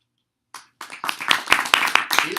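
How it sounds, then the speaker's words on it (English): Clapping from a small group at a civic tech hacknight, starting after a brief pause with a few scattered claps, then building into a short burst of hand claps. "The only one to get applause."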